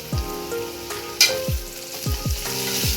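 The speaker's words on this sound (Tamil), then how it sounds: "நல்லா கோல்டன் ஃப்ரை ஆகிற வரைக்கும் நல்லா ஃப்ரை பண்ணி எடுத்துக்கலாம்." Onions frying golden in a pan with salt, a steady close sizzle broken by several dull stirring knocks and scrapes against the pan.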